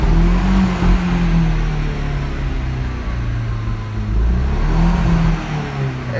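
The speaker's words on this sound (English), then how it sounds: "It's kind of revving up and not revving up," A 1.8T Audi TT engine runs loud and steady with the throttle held, its revs surging and sagging unevenly around 3000 rpm rather than holding one pitch.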